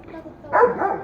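A dog gives a single short, sharp bark midway through, rising close and clear above a quiet household background.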